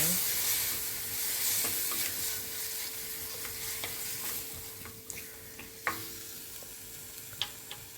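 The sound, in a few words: mixing tomatoes in pan for vegetable biryani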